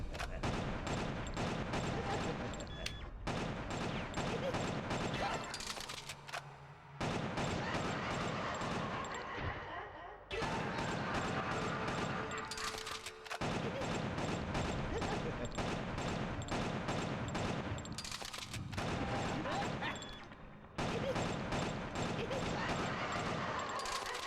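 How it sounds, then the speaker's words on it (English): Continuous rapid gunfire from a character firing two guns at once in a GameCube video game, loud dense bursts broken by short gaps for quick reloads, with talk faintly underneath. "This is cool that this guy has, like, 2 guns at once and he reloads them really fast."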